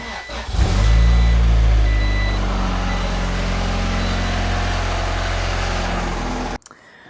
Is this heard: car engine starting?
yes